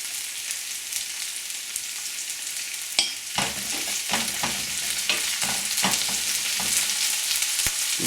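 Garlic frying in a pan for a Filipino dish of jackfruit in coconut milk with pork: a continuous close sizzle broken by repeated stirring scrapes and knocks, with no voices.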